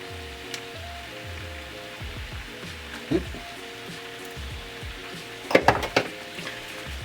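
Water boiling in a pot as a peridot gemstone, cushioned by cloth, sits in it during a faceting job, giving a steady bubbling sizzle with a few louder pops and clinks near the end.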